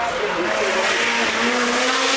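A rally car at the Goodwood Festival of Speed flashes past, its engine a steady, loud whine with a rising pitch held for about two seconds.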